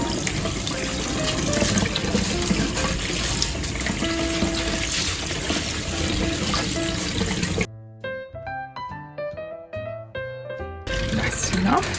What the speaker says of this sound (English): So first we need to rinse the rice. Yeah, just cold water.